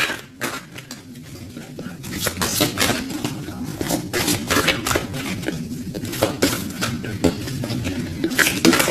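Tarot cards being shuffled by hand, a steady run of crisp riffling and slapping card sounds with repeated sharp clicks, close and continuous throughout, with no talking.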